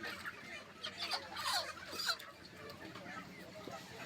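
Live chickens in cages at a village market cluck and squawk in bursts, close and fairly loud, with agitated calls rising and falling amid quieter background bustle.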